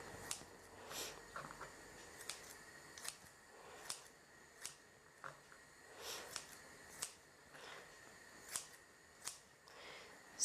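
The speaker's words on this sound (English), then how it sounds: "I like to use the scissors to cut the chicken" Kitchen scissors cut through raw chicken pieces with a series of crisp, evenly spaced snips, faint and close, each a short sharp click with quiet handling noise between.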